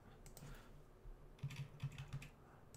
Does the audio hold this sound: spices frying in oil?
no